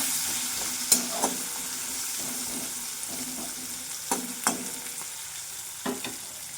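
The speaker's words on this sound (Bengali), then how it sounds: "ডাঁটাটাকে ভালো করে ভাজবো।" Stalks with salt and turmeric fry in a pan, giving a continuous close sizzle broken by several sharp clacks and scrapes of a stirring spoon, with no voices.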